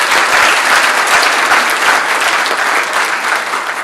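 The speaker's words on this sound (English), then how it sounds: "Let us give them a round of applause." A research colloquium audience applauding steadily, with dense clapping that stays loud for the whole stretch.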